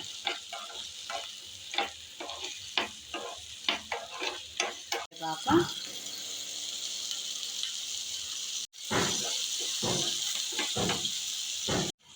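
Chopped half onion frying in a pan while a spoon stirs it, steady sizzle under repeated scraping strokes, close and clear, with two brief breaks in the sound and no talking.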